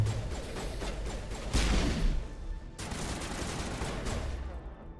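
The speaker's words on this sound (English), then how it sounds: "He's got a rocket launcher." A rocket launcher fires during a firefight in Mass Effect Legendary Edition, a dense burst of blasts and crashing impacts over continuous loud combat noise, with a sharp cutoff partway through before the barrage resumes.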